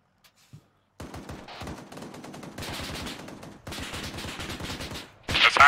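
Automatic gunfire in the military shooter Arma 3 during a Marine operation: loud, rapid bursts of machine-gun fire in several sustained stretches, with a brief pause before a final sharper volley.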